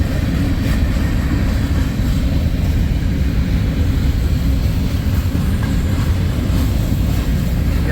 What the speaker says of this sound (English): Here's an old C&W coal importer pulling coal.